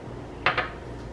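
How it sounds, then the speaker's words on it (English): A spoon stirring maple syrup into Greek yogurt taps twice against the bowl, two quick, light clinks close by over a quiet background. "And then you're going to stir."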